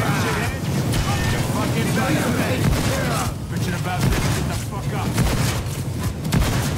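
Gunfire and booming explosions in the video game Payday 2, a loud continuous barrage with heavy low rumbles, mixed with game voices.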